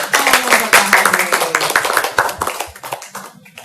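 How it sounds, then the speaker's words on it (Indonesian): An audience claps for Pak Hari at a family podcast recording, quick, dense hand claps close by that start strong and thin out toward the end, with some voices mixed in. "Tepuk tangan untuk Pak Hari."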